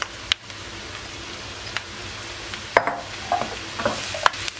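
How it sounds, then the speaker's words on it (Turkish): Mushrooms sizzle softly in a hot pan while a utensil scrapes and taps now and then, stirring them. "Mantarları bir süre kavuracağım."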